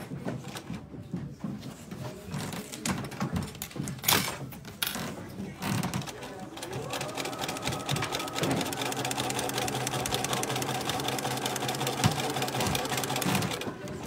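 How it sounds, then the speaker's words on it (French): A sewing machine runs a long continuous seam along a pencil case zipper, its steady mechanical whir building after a few stops and starts with light handling noises. "Je vais piquer tout le long jusqu'au bout."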